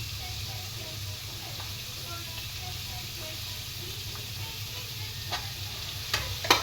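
Chopped cabbage and onion frying in a pan, a low steady sizzle with occasional utensil clicks and stirring taps, fairly quiet and close.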